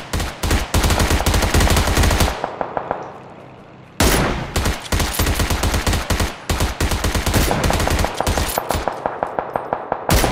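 Automatic gunfire in the video game PUBG comes as loud, rapid bursts. There is a short lull near the middle, then sustained firing resumes with scattered single shots.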